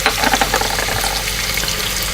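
Sausage and ground fennel sizzle and fry loudly in a pan, close up, with a continuous crackling hiss and a few stirring scrapes.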